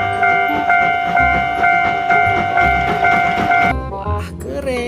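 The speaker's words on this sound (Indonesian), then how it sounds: "yang ini lokomotif kereta api teman-teman" A toy train locomotive plays a loud, repeating electronic whistle tone over a rhythmic chugging beat, then cuts off abruptly near the end, leaving brief rustling and faint voices.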